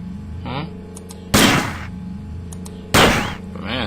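Two sharp, loud bursts of gunfire hit a robot in System Shock 2, spaced about a second and a half apart, set between short electronic blips and game sounds with no talk.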